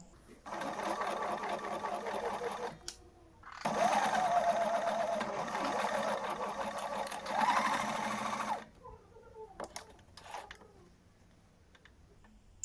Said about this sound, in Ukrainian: Роблю строчку по всій довжині е, верхньої лінії коміра.